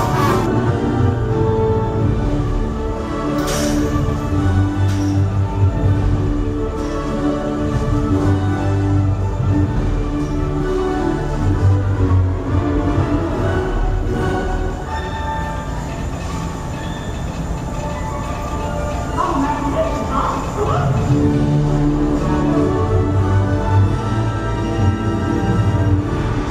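The Disneyland Railroad train rolls along at a steady pace, with continuous low rumble, rhythmic clickety-clack of wheels on track and occasional metallic squeals, heard from on board.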